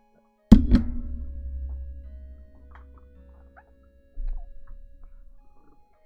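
A magazine is seated back onto an empty automatic weapon, a single sharp metallic clack with a quick secondary rattle and decaying ring, then quiet until a second, duller thump near the end.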